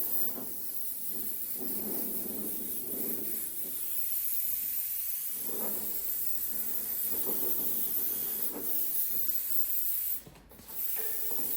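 An airbrush sprays paint in a steady, close hiss that carries throughout, with faint soft clicks and a brief drop near the end, no talking.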